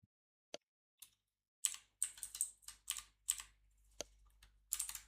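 Computer keyboard typing code during a Salesforce Apex programming session: a few isolated key clicks, then a dense, uneven burst of close, crisp keystrokes with short pauses, alone without speech.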